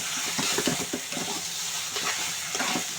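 Mixed leafy greens stirred in a hot pan, giving a steady close sizzle broken by soft, repeated stirring and scraping strokes, with no voices.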